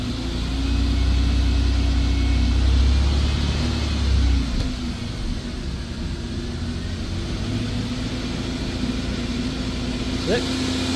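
A Subaru Impreza GC8 engine running after the exhaust is fitted, a steady low rumbling idle that holds throughout, with a deeper surge in the first few seconds and people talking over it.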